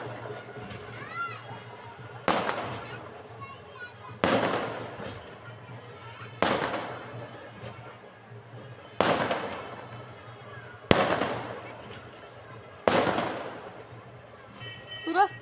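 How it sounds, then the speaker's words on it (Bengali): Fireworks bursting outside a wedding celebration at a convention hall, six sharp bangs spaced a couple of seconds apart, each trailing into a crackling decay, with faint voices in the background. "আতশবাজি ফুটছে"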